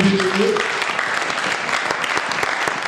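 A church congregation applauds in praise of the Lord, a dense steady wash of clapping with a brief voice near the start underneath.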